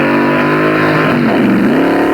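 Top stock drag racing cars from 1965 accelerate hard down the strip, a loud, continuous engine roar with a rising then dipping pitch sweep as they pass, with no talk.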